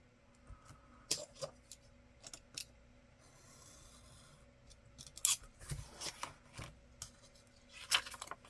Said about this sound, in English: I need to cut this down just a smidger.